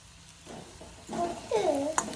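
Dried seela fish frying with onions in a pan, a soft steady sizzle with stirring scrapes that swell louder midway through, close and alone.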